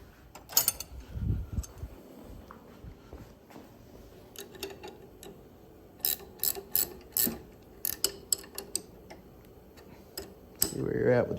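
Wrenches tightening kart tie rod bolts: scattered metallic ratcheting clicks and taps come in short bursts with pauses, close and moderately loud, mixed with light handling noises.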